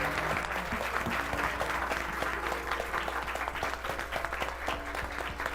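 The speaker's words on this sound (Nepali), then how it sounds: "एकपल्ट हामी पाउमा खडा भएर त्रिएक परमेश्वरलाई ठुलो ताली बजाएर लेट्स वेलकम" A standing congregation at a church discipleship training event claps loudly and continuously, a dense sustained round of applause filling the hall.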